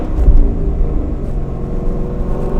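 A Ford Mustang GT with the 5.0 engine and loud aftermarket exhaust accelerating, its deep rumbling growl steady and close throughout with no talking.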